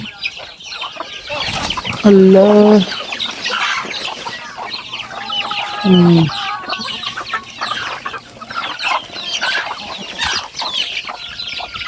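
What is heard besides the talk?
chickens clucking on a mini farm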